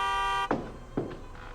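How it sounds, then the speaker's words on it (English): In the Nancy Drew: Alibi in Ashes video game, a car horn sounds as a steady, buzzing tone for under half a second, cut off abruptly and followed by two dull thumps. "Oh, thought I was gonna hear the horn honk."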